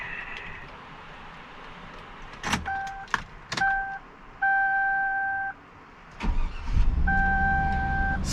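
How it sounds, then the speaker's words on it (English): A 2003 Chevy Silverado Z71 is started outdoors in wind: door-chime tones and clicks come first, then the engine cranks and catches into a steady, fairly loud idle. "let's fire this thing up."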